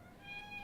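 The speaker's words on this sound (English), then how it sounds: "He's about 3 or 4 years old, and he's a great kitty." A rescue cat of about three or four years gives one short, faint meow that rises and falls, heard against quiet room noise at an adoption shelter.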